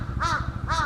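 Crow in Hokkaido in autumn giving two loud, harsh caws in quick succession, close by over a low background rumble.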